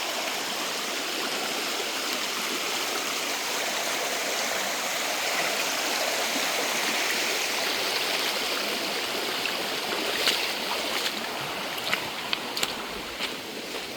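Fast-flowing Pennsylvania creek near a downed tree, heard as a continuous loud rush of water up close, with scattered light knocks and clicks toward the end and no talking.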